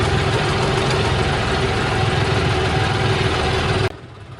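A tractor engine idles on a slope with a steady, loud low rumble that cuts off abruptly near the end, leaving faint background noise.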